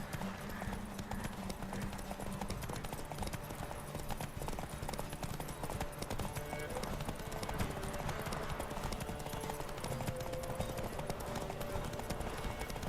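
Horse hooves clip-clop steadily at riding pace in The Witcher 3 video game, a continuous rhythmic clatter over a dense background of game ambience and music.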